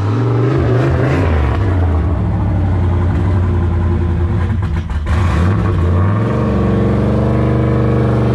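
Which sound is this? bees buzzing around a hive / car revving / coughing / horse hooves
car revving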